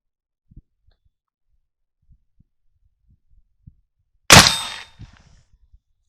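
A muzzleloading shotgun with a full choke fires a single sharp, loud report that trails off quickly, with a few faint knocks and handling clicks before and after.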